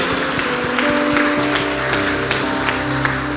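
A church congregation applauds in a dense, steady patter of clapping over sustained keyboard-like music tones.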